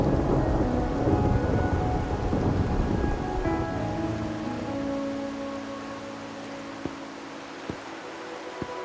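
Rain and thunder in the video game Wuthering Waves: a heavy rumbling roll of thunder fades into steady rainfall, with a few sharp drip ticks near the end.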